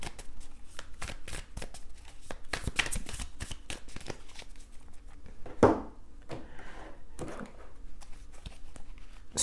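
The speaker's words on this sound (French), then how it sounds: "On va recouvrir les cartes." Tarot cards are handled, shuffled and flipped over on a table, giving a run of soft close slaps and papery rustles with an irregular rhythm and no talking.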